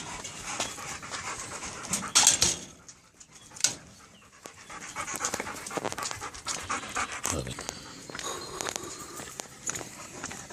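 Dog panting steadily close by with footsteps and movement, people talking at times over it; any whimpering is faint.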